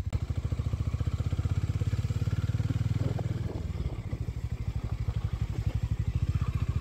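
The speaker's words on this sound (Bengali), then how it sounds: "তো চলেন আগে একটু রাইড, একটু টপ স্পিডে টানি" A Harley-Davidson X440 motorcycle thumps along at speed with a rapid, throbbing engine pulse, loud and close, the beat easing briefly midway before picking up again.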